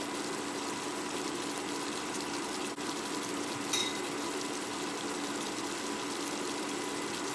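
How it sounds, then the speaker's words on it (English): Crawfish and shrimp etouffee sauce simmers in a pot as a half cup of water is added, giving a steady, close hiss and sizzle with a brief splash partway through and no talking. "I just added a half cup of water."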